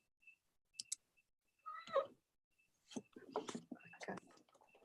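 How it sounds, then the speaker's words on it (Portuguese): A pet cat meows a few times close to a microphone during an online work meeting, short cries breaking through quiet before people start talking. "Tem um gato aí? Minha gata, quando eu começo a falar, ela fica meio louca."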